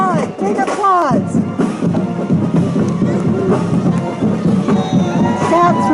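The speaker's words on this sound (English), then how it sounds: "Give them big applause! Big applause!" Parade crowd at Atascadero's Colony Days cheering for the Templeton Eagles, a dense, steady roar of voices with whoops and whistles, sustained and loud throughout.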